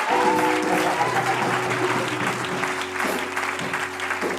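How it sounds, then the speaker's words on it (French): A church congregation claps steadily and loudly at a Sunday worship service, sustained applause filling the room while a low musical drone continues underneath. "Il faut acclamer Jésus."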